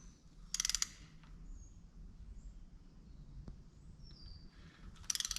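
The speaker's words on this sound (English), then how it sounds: "I'm going to start torquing them to 22 foot-pounds" Torque wrench tightening engine bolts to 22 foot-pounds on a twin-turbo Trans Am WS6 build, two brief bursts of rapid ratchet clicks near the start and end over a quiet garage background.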